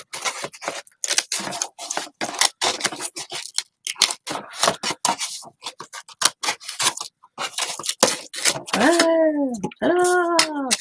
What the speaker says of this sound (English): I'm just gonna use the damn scissors.